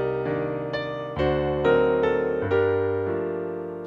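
Piano notes play a slow melody from Howl's Moving Castle over sustained chords, each new note struck clearly and left to ring, with no voices.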